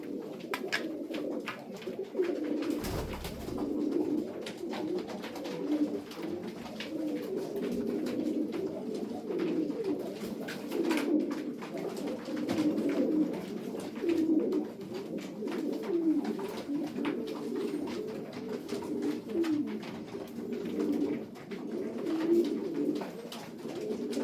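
Hungarian show pigeons coo in a steady, continuous chorus of overlapping low throaty calls, close and moderately loud, with no talking.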